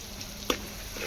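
Green chillies frying in oil for khichdi, cooked over a wood-fired stove: a soft, constant sizzle with one brief sharp pop or scrape in the middle.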